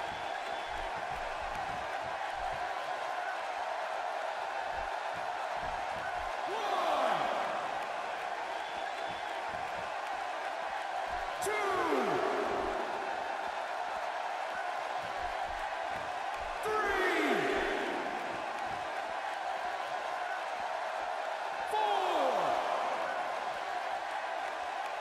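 A wrestling arena crowd in WWE 2K17 murmurs as a steady, distant hum throughout, swelling slightly every few seconds beneath a commentator's voice.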